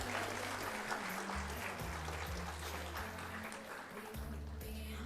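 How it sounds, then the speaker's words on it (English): Audience applause for graduating students at a school graduation and awards ceremony, steady clapping throughout, with sustained low organ-like music tones playing underneath. "Let's give them a round of applause."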